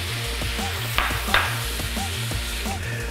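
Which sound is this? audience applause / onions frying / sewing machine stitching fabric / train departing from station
onions frying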